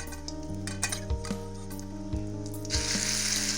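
Ground spice paste hits hot fish oil in a wok and sizzles loudly and steadily, with a few metal clinks and scrapes as it is stirred, close up.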